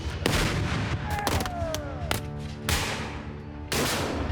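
Civil War-era artillery cannon firing in a demonstration, several sharp loud booming shots spaced irregularly with ringing decay between them.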